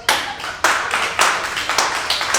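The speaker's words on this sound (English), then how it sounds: "Round of applause" Bursts of audience clapping at a stand-up comedy show, several separate rounds of applause starting and fading in quick succession, fairly close and lively, with no talk over them.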